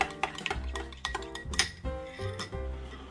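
A hot chocolate cocktail is stirred in a glass, producing light clinks and taps of a spoon against the vessel in an irregular rhythm, close and fairly quiet.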